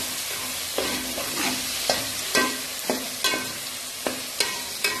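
Onion, ginger, garlic and chopped tomato fry in a pan for an arvi masala, with a steady close sizzle and periodic sharp scrapes and clinks as a spoon stirs, and no voices.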